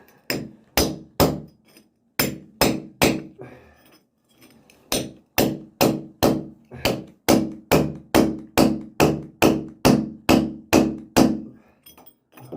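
A chisel is driven straight down into wood by about two dozen sharp, evenly spaced mallet strikes. The strikes are loud and close, with a short pause partway through.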